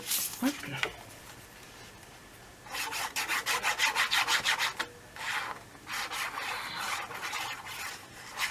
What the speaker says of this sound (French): Je vais juste limer un petit peu.